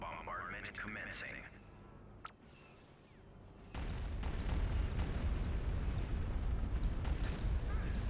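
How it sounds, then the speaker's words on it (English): In the game Star Wars: Empire at War, a modded orbital bombardment opens after a short radio-style voice line, then a dense, continuous barrage of heavy booms and blasts rumbles on without letup. "Bombardment commencing."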